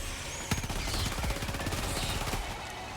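A gun firing in the video game Helldivers 2, a loud rapid burst of evenly spaced automatic shots that lasts about two seconds and then stops, with no talking.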